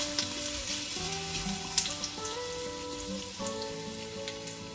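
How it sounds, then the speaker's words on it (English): About three cloves of minced garlic sauté in hot oil, making a dense, continuous sizzle that stays close and fairly loud, with a few brief crackles and a low background hum. "As the oil is now hot, I am going to add about 3 cloves of minced garlic."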